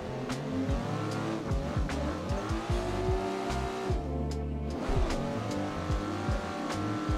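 A BMW E36 drifts in the Assetto Corsa racing game, with the engine revving hard up and down and repeated shifts over a constant tire squeal.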